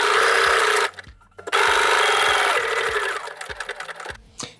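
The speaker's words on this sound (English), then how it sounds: "I think this might be the last set of lines we can sew without cutting thread" A sewing machine stitches quilting lines on a space-themed design, its fast steady whir running loud and close, stopping briefly, then restarting and slowing into uneven bursts.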